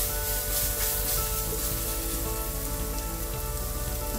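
Steady crackling sizzle of chili powder and spice powder frying in a hot pan for beef biryani, continuous and close, with no voices.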